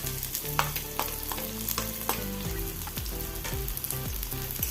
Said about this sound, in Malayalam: ഇനി സവോള അരിഞ്ഞത് ചേർത്ത് കൊടുക്കുക